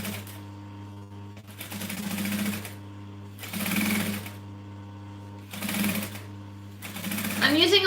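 A sewing machine stitches bag handles for a Linette business bag in three short bursts with pauses between them, close and fairly loud, over a steady low hum.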